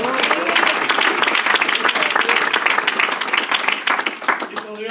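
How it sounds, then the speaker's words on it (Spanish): A church congregation clapping hard during worship, loud dense rhythmic applause filling the room for five seconds, with voices mixed in underneath. "Dele fuerte esas palmas al Señor."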